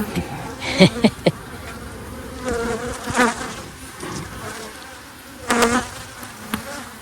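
Honeybees buzz in a dense, steady drone from an open hive holding nine frames of brood, heard close up, with a few louder passes from single bees rising above the swarm.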